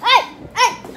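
A dog lets out two short, high yelping barks close by, about half a second apart, with no one talking over them.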